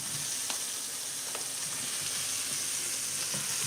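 Zucchini sizzles and fries steadily in a pan over medium-high heat, giving a continuous close, loud hiss with a few faint pops and no talking.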